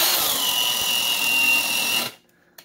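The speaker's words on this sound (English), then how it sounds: "I'm using my DeWalt DWD-112 at 2500 RPM" A DeWalt DWD112 corded drill spinning at 2500 RPM drives a Bosch DareDevil self-feed spade bit into wood, giving a loud, close, continuous whining grind with strained gear noise for about two seconds before it stops abruptly.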